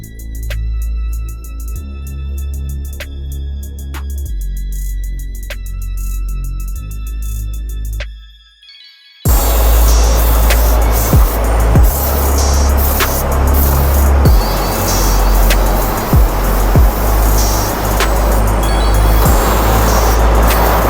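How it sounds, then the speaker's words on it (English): Dry ice blasting on a Mercedes 300 SL during grime removal: a steady, loud, broadband hiss and roar that cuts out briefly, then resumes harsher with scattered sharp ticks and pops, no voices. "the dry ice blast work is now finished on this car"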